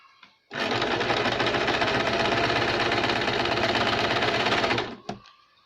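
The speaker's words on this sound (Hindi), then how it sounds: "तब इसकी हम सिलाई लगाएंगे" A sewing machine runs in one steady, loud burst of rapid stitching for about four seconds while a double katori blouse is sewn, then stops with a short click. No one speaks.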